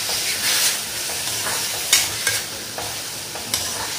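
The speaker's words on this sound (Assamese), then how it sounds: "ভালদৰে লৰাই দিছোঁ।" Vegetables being stirred in a frying pan with turmeric and salt, a steady sizzle broken by several sharp scraping strokes of the spatula, close and fairly loud with no talking.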